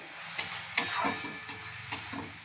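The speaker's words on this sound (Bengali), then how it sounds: "এটাকে লাল লাল করে ভাজতে হবে, নাহলে কাঁচা রসুন, কাঁচা পেঁয়াজে গন্ধ থাকবে।" Onion and garlic fry in a pan with a low, steady sizzle, broken by several sharp spatula scrapes and taps against the pan at uneven intervals.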